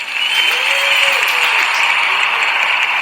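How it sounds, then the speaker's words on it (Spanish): Steady, dense audience applause filling the whole stretch, loud and continuous with no pauses. "Y aplausos."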